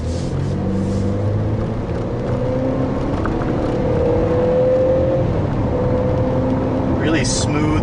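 A 2013 Ford Escape Titanium with a four-cylinder engine accelerates, a smooth, subdued engine hum with rising pitch and road rumble heard from inside the cabin while someone talks.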